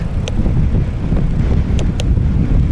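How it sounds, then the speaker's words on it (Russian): Steady wind rushing across the microphone of a touring bicycle coasting down a steep hill in Tatarstan, a continuous loud broadband roar with no talk. "А тут уже ветер."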